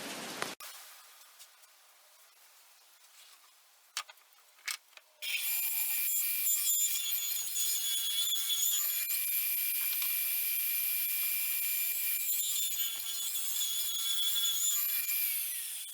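A saw cuts through wood for an upcycled side table, starting after a few sharp knocks and then rasping steadily and loudly, close by, for about ten seconds before easing slightly, with no talking.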